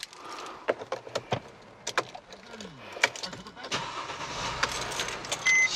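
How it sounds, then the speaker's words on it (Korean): A Mercedes-Benz car, an accident-free single-owner vehicle with about 72,000 km, heard from inside the cabin: keys jangle and a door clunks, then the engine cranks and settles into a smooth, steady idle close by. "자 바로 실내 안에 탑승을 해서 시동 한번 걸어 보도록 하겠습니다"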